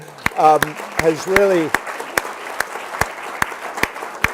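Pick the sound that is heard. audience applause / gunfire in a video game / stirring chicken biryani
audience applause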